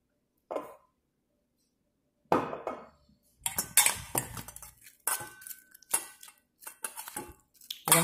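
A spoon stirs avocado filling with mayonnaise in a bowl, giving irregular clinks and scrapes against the dish in short bursts with pauses between, close and fairly loud.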